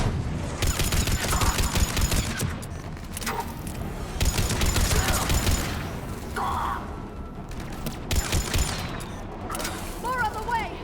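Sustained gunfire in the video game Mass Effect 3, dense overlapping bursts and rapid shots running nearly nonstop at a loud, steady level, with brief swells of heavier fire throughout.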